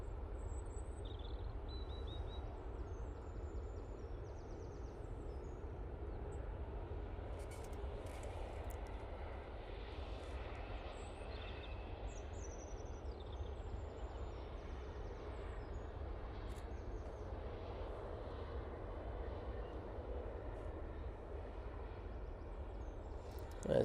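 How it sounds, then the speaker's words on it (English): KLM Embraer jet touching down at Manchester Airport, heard from a distance as a low, steady engine rumble and roar sustained throughout, with faint intermittent outdoor sounds over it. "KLM Embraer now touching down, and I tell you what, they're swinging that tail around big time on that landing."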